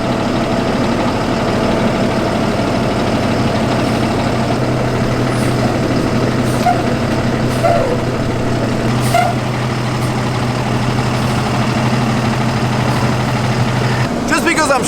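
A truck engine idles and rumbles steadily at close range as the vehicle is eased out of a tight parking space, with occasional air-brake hiss and clunks near the end.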